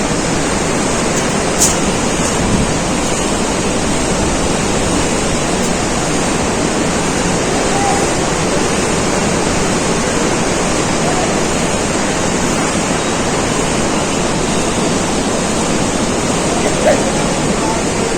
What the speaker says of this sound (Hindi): और नीचे से बह रही है सरस्वती नदी।